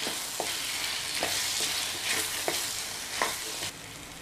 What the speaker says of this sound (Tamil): முருங்கைக்காயை சேர்த்து நல்லா வதக்கி விட்டுட்டு இந்த மாதிரி பண்ணோம்னா குழம்பு வந்து ரொம்ப நல்லாயிருக்கும்